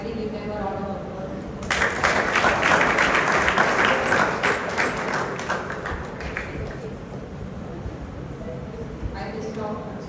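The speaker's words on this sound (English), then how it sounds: "Audience, kindly give them a round of applause." An audience at a school inter-class debate applauds, a dense wash of clapping swelling after a moment and fading over several seconds, with an announcer's voice before it.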